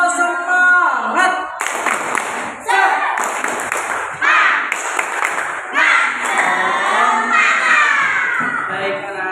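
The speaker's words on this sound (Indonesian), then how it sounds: "Tepuk semangat." Schoolchildren in a classroom perform a rhythmic spirit clap led by a teacher, with bursts of patterned clapping and thuds mixed with loud chanting voices and shouts, all close and lively.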